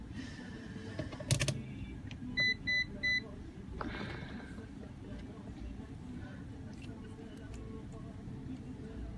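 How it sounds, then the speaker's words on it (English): A multimeter in buzzer continuity mode gives three short beeps in quick succession while checking a cut wire in a pair of headphones during a repair, with other clicks and handling noise around them and someone talking over the background. "I just tested in buzzer mode,"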